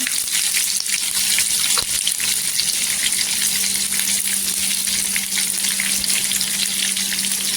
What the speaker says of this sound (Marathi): इथे कांदा आहे ना गोल्डन कलर, पूर्णपणे कांद्याचा गोल्डन कलर असा झाला पाहिजे, तेलावर परतून घ्यायचा